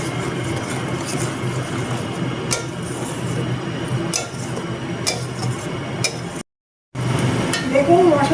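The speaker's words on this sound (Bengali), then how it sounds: "এবারে মশলাটা একটু কষিয়ে দেবো, কিন্তু বেশি কষাবো না।" A spatula scrapes and taps steadily in a pan as a mustard and white sesame spice paste fries in oil, a soft sizzle running underneath the repeated clicks.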